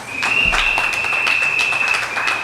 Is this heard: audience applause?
yes